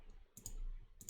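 Sharp mouse clicks from a computer, one near the start and another near the end, short bright ticks against a quiet room hum with no talking.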